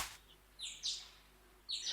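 Morning birdsong in the Piofiore video game: a few bright, close chirps in quick clusters, separated by brief quiet gaps.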